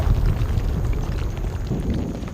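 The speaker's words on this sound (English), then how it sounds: "That was a pretty good explosion." A big explosion in the video game Fallout 3, heard as a dense, sustained low rumble that fills the whole stretch, loud and heavy without any speech.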